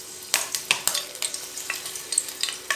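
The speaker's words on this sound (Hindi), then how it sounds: "तेल गरम हो गया है, अब हम उसमें हरी मिर्च डालेंगे" Green chillies spit and crackle in hot oil, with a steady sizzle broken by sharp loud pops and stirring scrapes at an uneven rhythm, close up and with no voices.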